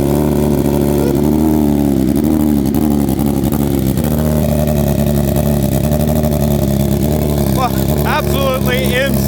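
A BMW S1000RR superbike fitted with a full titanium Akrapovic exhaust fires up and runs loud and close, moving from a rough, uneven idle to a steady drone. Near the end come several sharp throttle blips.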